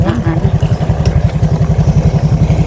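A motorcycle engine chugs with a steady, close, pulsing rhythm while riding on a travel trip, loud and throbbing throughout.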